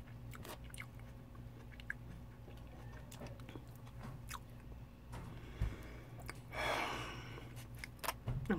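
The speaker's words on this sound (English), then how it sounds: "Taste these yams." Cafeteria yams being chewed close to the mic, soft wet squishing and mouth sounds at low level, with a brief breathy swell near the end.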